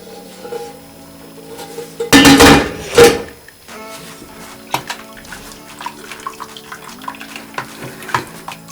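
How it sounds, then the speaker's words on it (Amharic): Homemade cream cheese curds are poured into a strainer: a loud splashing burst of liquid, then scattered drips and light clinks as the whey drains. "በማጥለያችን እናጠለዋለን።"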